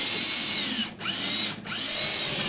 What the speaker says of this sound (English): now I'm going to drill this guy. It's going to go all the way through